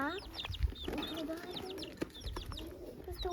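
Small young chicks cheep in rapid, high overlapping peeps as they are carried to a henhouse at a garden plot, close and continuous, with people talking quietly nearby.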